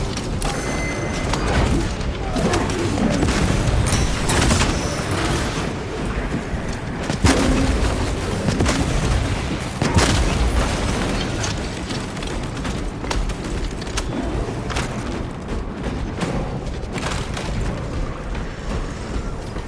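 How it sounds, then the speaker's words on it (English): A frag grenade blast in the Warhammer 40k video game, part of loud continuous combat with booming impacts and mechanical clatter, several sharp explosive bursts standing out around the middle. "Frag grenade out."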